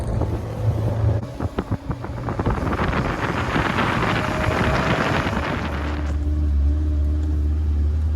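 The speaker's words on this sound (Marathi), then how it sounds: "आमची गाडी लीड करते, बाकी 2 गाड्या मागे आहेत. 3 गाड्यांमधून चाललोय." A car leading a three-car convoy climbs Mount Batur in Bali through forest in the cold dark before sunrise, its engine a steady close rumble with wind buffeting the microphone throughout.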